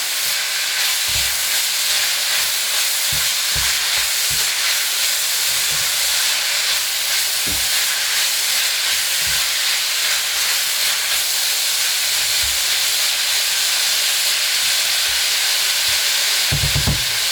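Lamb mince browning in a pan for keema curry, a steady loud sizzle and hiss running continuously throughout, with occasional low knocks from stirring or the pan.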